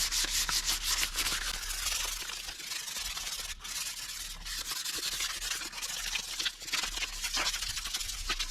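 Continuous scratchy sanding of a van wheel, sandpaper rubbed back and forth in quick repeated strokes, close and steady throughout.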